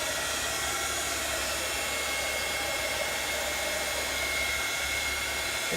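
A heat tool blows steadily for about six seconds, drying a freshly stamped card in a continuous, close, even whoosh with no talking.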